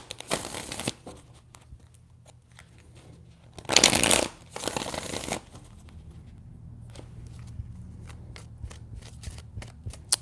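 Cards are riffled and shuffled in several quick bursts, crisp flapping and ruffling up close, separated by softer handling sounds.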